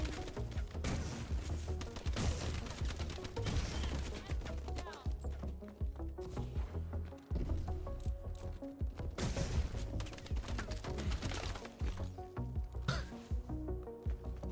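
Slow-firing gun in a Call of Duty game, a weapon rated at 120 rounds per minute, shooting over a dense, busy backdrop of game noise and music, the individual shots blurred into a constant rumble.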